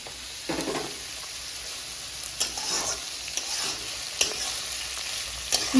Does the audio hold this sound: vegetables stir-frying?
yes